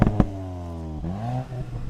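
Volkswagen Golf 8 GTI engine revving, a loud close rumble with rising and falling pitch and a couple of sharp cracks near the start.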